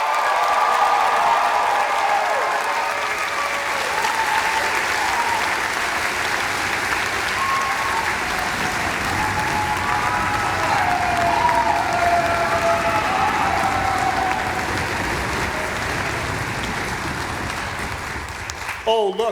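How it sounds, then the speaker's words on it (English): A graduation audience at Perpich Arts High School gives a long, loud round of applause for the class of 2022, dense clapping with scattered cheers that holds steady throughout before tapering at the end. "how about one more round of applause for the class of 2022?"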